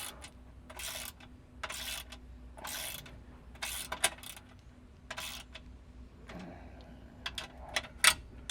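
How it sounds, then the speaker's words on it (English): Ratchet tightens a rivet nut while a Can-Am Defender seat mount kit is being installed, giving several short bursts of rapid clicking separated by pauses, close and fairly quiet. "tighten with a ratchet until the rib nut does not move anymore"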